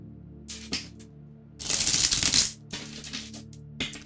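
A tarot deck is shuffled by hand in quiet, soft riffling bursts, with one longer and louder shuffle in the middle surrounded by brief card taps.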